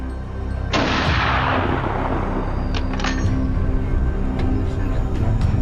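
Rifle shots ring out during a boar hunt on open plains. One sharp, loud report is followed by a long decaying rumble, and a few fainter cracks or clicks come afterward, with no voices.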